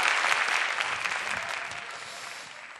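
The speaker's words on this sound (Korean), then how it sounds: "여러분들 이렇게 너무 열광적으로 박수를 쳐주시니까 소름이 끼치네요" An audience applauds enthusiastically at a live talk event, with dense, steady clapping that fills the whole stretch and slowly tapers toward the end.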